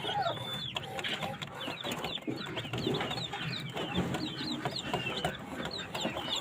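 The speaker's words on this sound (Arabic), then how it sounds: "هو دي كتاكيت بلدي" Day-old local baladi chicks peep in a dense, continuous chorus of high, overlapping chirps, close and steady from start to finish.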